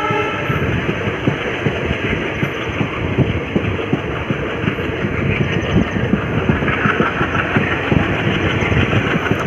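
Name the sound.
WDM 3D diesel locomotive train running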